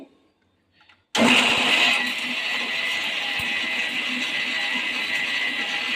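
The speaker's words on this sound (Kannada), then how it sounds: "ಇವಾಗ ನಾನು ಇದನ್ನೆಲ್ಲ ಮಿಕ್ಸಿ ಮಾಡ್ಕೊತಾ ಇದ್ದೀನಿ" A kitchen mixer grinder starts abruptly and grinds a coarse masala of coconut, chilli, onion, cloves and cinnamon, a loud steady whirring drone that runs on without pause after a short quiet moment.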